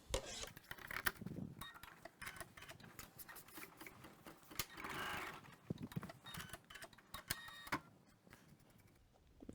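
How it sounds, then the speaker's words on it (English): A sewing or embroidery machine stitches a placement line on yellow fabric, running in busy mechanical bursts with ticking and clattering, close and fairly quiet, with no one speaking. "we're going to stitch the placement or trim line"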